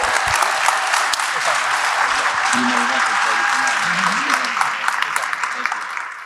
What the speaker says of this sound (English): Clap it up for Captain Ryan Tseko.